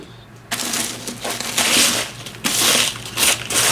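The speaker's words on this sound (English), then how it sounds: "you can take a scrub brush" A stiff scrub brush scours homemade fake rocks made with vermiculite, rasping in loud, continuous strokes with brief pauses, close up and without talk.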